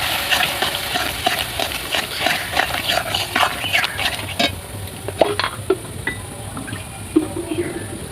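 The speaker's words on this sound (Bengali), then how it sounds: "অল্প একটু বাটি ধোয়া জল দেব।" Rinse water from a spice-paste bowl splashes into Bengali masala frying for desi chicken kosha, with steady sizzling and repeated stirring clatter close by throughout.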